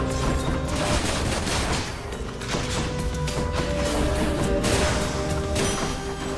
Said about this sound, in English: Lots of little bombs.